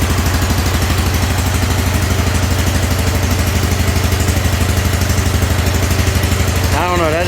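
A John Deere QuikTrak 652R EFI mower engine, just jump-started, runs steadily and loudly up close with a throbbing low idle that lasts throughout, a brief rising whine near the end.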